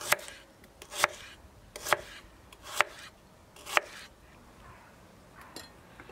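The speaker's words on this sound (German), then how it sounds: "Die Zwiebeln halbieren und dann nicht querschneiden, sondern längs in schöne Scheiben." Halved onions sliced lengthwise on a cutting board, five or six crisp knife chops at a steady, unhurried rhythm, close and clear with quiet gaps between strokes and no talk.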